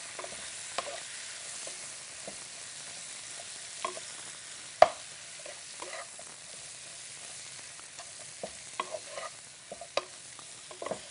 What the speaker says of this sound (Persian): ما میخواییم حالا خورما رو داخل دیگه کمی که سرخ کنیم